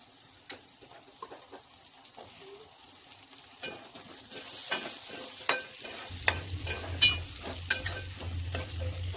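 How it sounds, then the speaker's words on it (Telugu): Drumsticks (moringa pods) fry in oil in a pan, with soft sizzling that grows louder after the pods go in, punctuated by clinks and scrapes of stirring. "మునక్కాయలు వేసుకొని ఆయిల్లో ఫ్రై చేసుకోవాలి."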